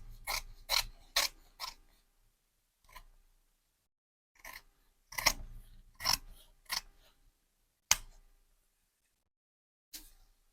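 Scissors snip through the fabric of a strapless dress during an alteration, quick clusters of crisp close cuts separated by quiet pauses, with single isolated snips toward the end.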